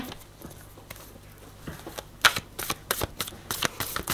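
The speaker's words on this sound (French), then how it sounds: "Je vais recouvrir les cartes." Tarot cards being gathered and covered on a table, a run of crisp shuffling and sliding rasps that grows busier and louder in the second half, heard close with no talk.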